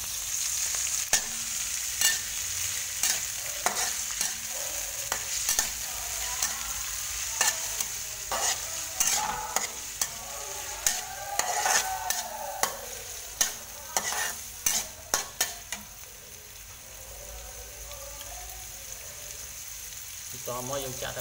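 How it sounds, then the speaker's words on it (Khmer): Sponge gourd and shrimp fry in oil in a pan, a steady sizzle broken by frequent sharp scrapes and knocks of a utensil stirring, close and moderately loud. "ឆានំនងជាមួយកំពឹស"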